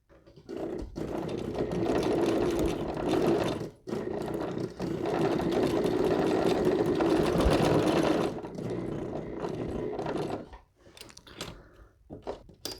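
A sewing machine stitches a bar tack near the edge of a quilt storage bag, running steadily and close for several seconds in a few bursts with brief pauses between runs.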